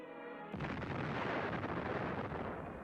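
A heavy time-bomb explosion at the King David Hotel, the British Army headquarters in Palestine, bursts in suddenly after a quiet moment and rolls on as a loud, sustained roar of blast and debris.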